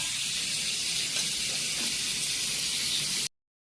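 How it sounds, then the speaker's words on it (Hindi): Potatoes fry in a pan with a steady, loud sizzle and hiss, constant with no talk, then cutting off abruptly. "अब आलू को फ्राई कर रही हूँ।"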